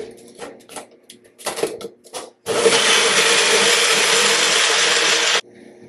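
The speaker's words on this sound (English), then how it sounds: "Now let's blend it." A blender whirs steadily for about three seconds, loud and continuous, purees a camping meal-prep mixture with fresh coriander, following a few short knocks and rustles of ingredients and the lid being set.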